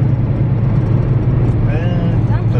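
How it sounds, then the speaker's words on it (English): Loud, constant low road rumble and engine drone fill the cabin steadily throughout, a close, unbroken roar of a car at highway speed with golf clubs in the back. "The car sound really loud."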